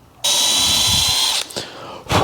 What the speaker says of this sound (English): So we'll get our drill. We want to pre-drill.